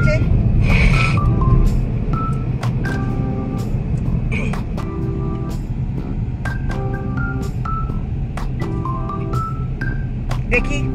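A car being driven along a road, with a continuous low road and engine rumble, repeated short tonal beeps from passing traffic or horns, and a person talking at times.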